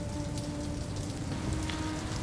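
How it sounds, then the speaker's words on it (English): Steady, dense rain falls on a surface close by, an even hiss with no pauses, and no voices are heard. "Enough rain."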